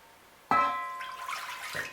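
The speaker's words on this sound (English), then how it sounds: "Put some water in a pot." Water is poured into a cooking pot while making ndole, a sudden splash followed by a short run of pouring and a second splash near the end, close and clear.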